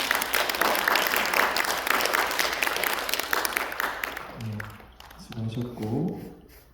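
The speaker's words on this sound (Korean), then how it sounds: "박수 한번 칩니다" Church congregation applause during a Sunday worship service, a dense wash of clapping that fades after a few seconds as a voice begins speaking.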